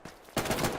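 Gunfire in the World War II shooter Hell Let Loose during a competitive console match on Hill 400, a sudden loud burst of rapid overlapping shots starting partway through and continuing steadily to the end.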